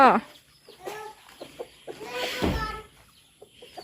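Chickens clucking as they settle onto their roost at dusk on a rural farm, a series of short close clucks and squawks scattered across the moment, with quiet gaps between them.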